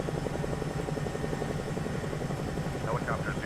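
A helicopter in a flight simulator holds a steady, dense rotor thrum with a rapid low chop for the whole span. A faint voice comes in near the end.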